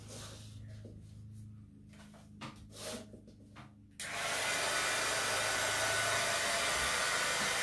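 A hair dryer switches on abruptly partway through and blows steadily and loudly, drying paint on a craft pumpkin topiary; before it starts there are quiet handling sounds.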